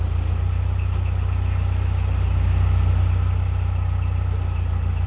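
A narrowboat engine idles with a low, steady throb, running evenly and quietly with no revving for the whole stretch.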